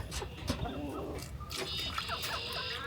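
Chickens cluck and squawk in a busy coop, several birds calling over one another with scattered sharper cries and steady background noise.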